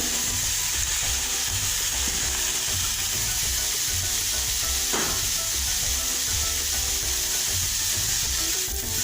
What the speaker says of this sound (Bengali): এভাবে একটু ভেজে নিলে সবজির যে কাঁচা স্মেলটাও চলে যায় এবং ক্রাঞ্চি হয়